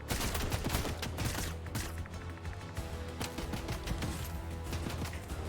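Dense video game gunfire from a sniper rifle and other weapons: rapid bursts and sharp cracks pile up over a loud, continuous battle din, close and relentless throughout.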